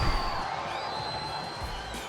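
A cricket crowd at the Hong Kong Sixes cheers Pakistan's semi-final win over Australia, a broad, steady roar of many voices heard from a distance with a faint whistle-like tone running through it.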